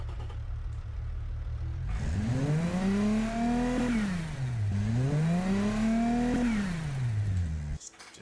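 Simulated V6 engine from the car-building game Automation, revving up and down in two smooth rising-and-falling sweeps after a low steady idle, loud and close with no other sounds over it.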